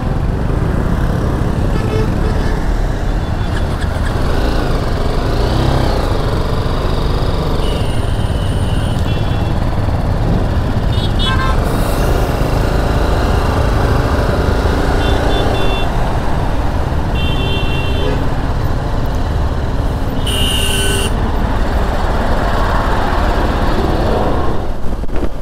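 A BMW G 310GS motorcycle ridden by day in foggy conditions, its steady engine drone and heavy wind rush filling the whole stretch loudly and continuously, with no speech.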